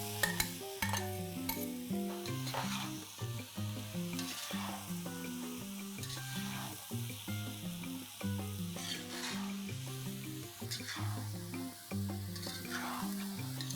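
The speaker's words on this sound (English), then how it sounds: "Now let's add 2 tomatoes that are finely chopped and fry further" Finely chopped tomatoes fry in a pan for restaurant-style chicken rara, a soft continuous sizzle broken by repeated scraping stirs and clinks of a utensil, quiet and close, with no talking.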